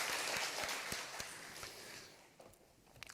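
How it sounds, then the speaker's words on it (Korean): A church congregation at a Sunday worship service gives applause that starts full and gradually thins, fading into scattered claps and soft shuffling near the end. "다시 한번 우리 하나님께 감사와 영광의 박수 올리겠습니다"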